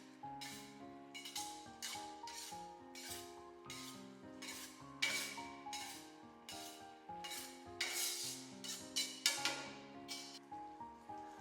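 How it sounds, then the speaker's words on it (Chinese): Fried pork tenderloin stir-fried fast in a wok of sweet and sour sauce gives rhythmic scraping and sizzling strokes, repeated briskly over steady background music. "再把炸好的里脊放进来，快速的翻炒均匀，让每一块里脊都能均匀的裹上糖醋汁"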